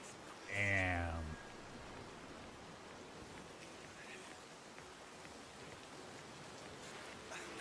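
Steady rain falling in Cyberpunk 2077, a soft, even hiss throughout at low level, with a short voice heard briefly near the start.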